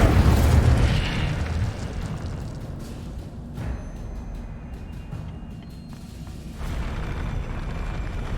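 The Incendio fire spell cast in Hogwarts Legacy, a loud whooshing burst that flares up at once, then settles into a rumbling crackle with softer pops and a renewed surge near the end; no voices.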